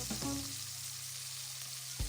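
Salmon fillet frying in a pan, giving a steady close sizzle with a low hum underneath and a couple of brief clatters at the start and end.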